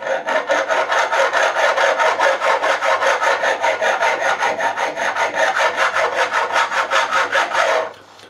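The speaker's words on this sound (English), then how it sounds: "This is quite a coarse file, but I'm not too bothered." Coarse file skimming back and forth across the fretboard of a 1983 Burny Les Paul Custom during a refret, a steady rhythmic rasp of even strokes, close and loud, running alone until it stops near the end.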